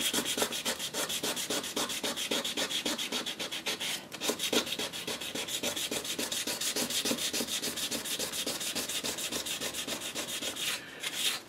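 A jewelry piece is sanded by hand with sandpaper, producing a fast, even rhythm of rasping strokes that continues steadily and fairly quietly with no talk.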